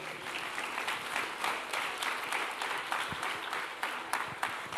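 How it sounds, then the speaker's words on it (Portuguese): A church congregation claps together during a family worship service, a moderate, steady patter of many hands with some louder individual claps, heard from a distance in a reverberant hall. "Quem crê nisso, aplaude o Senhor."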